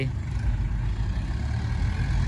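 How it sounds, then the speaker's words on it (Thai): Brief low, rumbling chug from a small L5018 tractor engine as it tows a larger M5000 tractor. The drone is steady and moderately near, with no voices. "ดูรถไถครับรถไถ"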